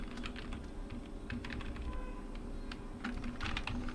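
Typing on a computer keyboard while entering a SUMIF formula in Excel, a quick irregular run of close, light key clicks with brief pauses, on its own without speech.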